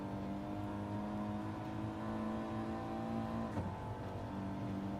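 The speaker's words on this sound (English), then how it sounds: "Listen to that gearbox." A racing car engine in a video game drones steadily at high revs with a whining gearbox, dipping briefly as it shifts before climbing again.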